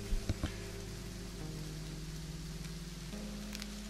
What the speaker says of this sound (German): Es regnet wie blöd.